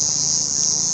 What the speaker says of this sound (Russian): И они повсюду, и жужжат жутко.